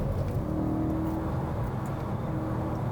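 A 2008 BMW M3 engine pulls hard while driving, a steady, fairly loud in-cabin drone with a rising tone as it accelerates at high revs.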